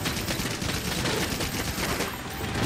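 Rapid machine gun fire in the video game Monster Hunter World, a dense, loud, continuous crackle of shots that runs unbroken through the whole moment with no voices over it.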